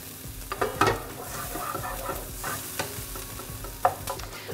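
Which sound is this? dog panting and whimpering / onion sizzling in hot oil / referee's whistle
onion sizzling in hot oil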